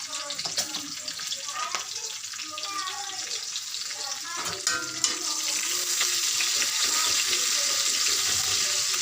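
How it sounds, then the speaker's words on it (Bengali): Nigella seeds temper in hot oil with a bright, crackling sizzle. The hiss thickens into a steady, dense spitting roar that carries on to the end. "কালো জিরা ফোড়ন"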